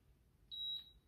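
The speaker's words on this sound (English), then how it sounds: "Let me start the timer." A single short electronic timer beep during a chair stretching workout, a thin high tone lasting about a third of a second, faint and isolated against a quiet room.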